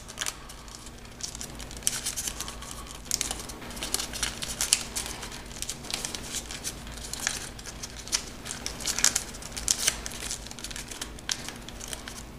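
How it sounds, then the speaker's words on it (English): Continuous close crinkling and rustling of paper being folded and creased into an origami stegosaurus, with irregular sharper crackles throughout and no speech. "bring it back down here, and then fold this corner, fold that one even more in there"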